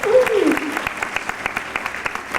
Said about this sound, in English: How about a big round of applause for our stuntwoman